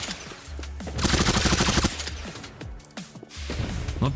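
Rapid gunfire in a tower defense video game, a dense rattling burst of shots in the middle with scattered single pops and thuds before and after, close and loud.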